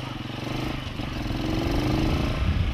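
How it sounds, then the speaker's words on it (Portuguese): A motorcycle engine runs unevenly and misfires while riding at night near a cemetery, a rough sputtering drone that swells slightly louder toward the end, with no talk over it. "Nossa, a moto tá meio falhando"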